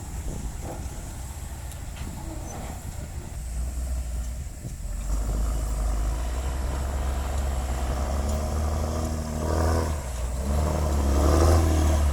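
A six-wheel truck with an Isuzu 6HK1 300 hp engine and a nine-speed Eaton gearbox idles and revs steadily, the low engine drone thickening partway through and holding loud, with wind noise across the microphone and no talk.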